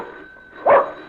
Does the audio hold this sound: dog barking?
yes